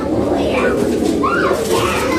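An army line pigeon coos nearby in soft, rolling calls over a low background murmur.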